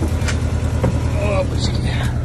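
A Skoda Fabia engine idles steadily with a low rumble after a hard start following a long standstill, heard close up in a garage while someone talks over it.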